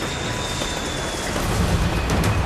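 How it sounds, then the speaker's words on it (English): A steady rumbling roar of a train running along the tracks through London, approaching a tunnel, loud and continuous, building slightly toward the end. "The train approaches a half-mile-long tunnel north of the city center."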